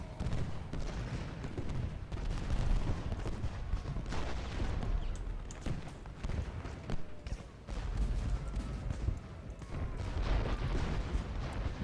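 Continuous battlefield din of cannon and rifle fire from the Civil War strategy game Ultimate General: Gettysburg, dense overlapping booms and crackling volleys holding steady at a moderate level throughout.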